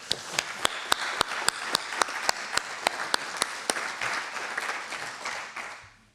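An audience applauds at the opening session of a conference on the climate emergency and solar energy. A dense wash of clapping is punctuated by sharp, evenly spaced louder claps, then tapers off at the end.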